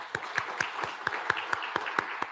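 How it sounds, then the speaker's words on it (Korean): Light, steady clapping from a small church congregation during a Sunday service, evenly paced and moderately close, with no talking over it. "박수하겠습니다"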